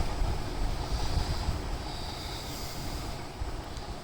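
Strong wind blows across the front deck of a river launch under way. It makes a steady, loud rumbling buffet with no voices over it.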